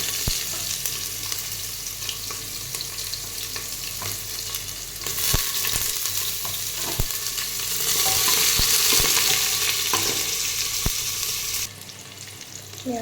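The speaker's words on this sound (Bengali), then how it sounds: "তেজপাতা দিয়ে দিচ্ছি, জিরেও দিয়ে দিলাম, পেঁয়াজ কুচি দিয়ে দিচ্ছি" Chopped onion frying in oil with bay leaf and cumin for Bihari tehri, a dense steady sizzle that swells midway, with sharp utensil taps and scrapes scattered throughout and no voices.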